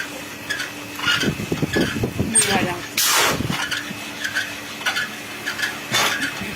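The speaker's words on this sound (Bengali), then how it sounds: "মুড়ির ভাজাটা একটু দেখি এই যে অল্প করে চাল দিয়ে দিয়ে" Rice grains being puffed by frying in hot, fine river sand in the traditional way, giving scattered crackling and scraping bursts with a loud rushing stir around the middle, while a voice speaks over much of it.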